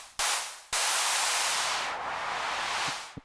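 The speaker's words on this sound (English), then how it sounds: "And I think it's just white noise." A loud hiss of synthesizer white noise switches on, cuts out briefly, then returns and holds steady, its tone sweeping slightly before fading near the end.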